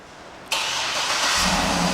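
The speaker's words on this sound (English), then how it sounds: "and the car turns right on." A 2007 Cadillac Escalade AWD is started remotely: after half a second of quiet, the engine catches with a sudden loud crank and settles into a steady, full idle that swells slightly as it runs, close by and without talk.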